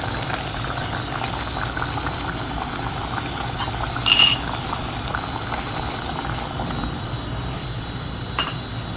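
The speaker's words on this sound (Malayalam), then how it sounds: "ഇത് നോക്കൂ നന്നായിട്ട് തിളക്കിണ്ട്" A pot of Palakkad-style payasam boiling vigorously, with steady close bubbling and a low rumble, plus a brief metallic clink midway.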